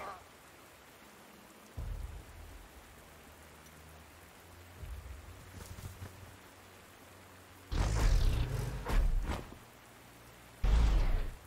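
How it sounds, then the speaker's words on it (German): Steady rain hisses in the background of the video game Panzer Corps 2 while low rumbling thunder-like bursts swell up a few times, with short stretches of voices heard among them. "Es regnet, okay, da kann ich nichts machen."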